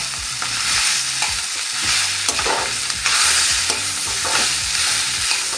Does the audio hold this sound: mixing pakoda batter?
yes